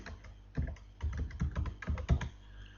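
A project title is typed on a computer keyboard in short bursts of close, crisp key clicks, with brief pauses between groups of strokes and no talking.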